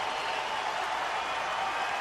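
Baseball crowd at the ballpark during a Mets at Diamondbacks game, a steady wash of cheering and applause from a large distant crowd, even and sustained without breaks.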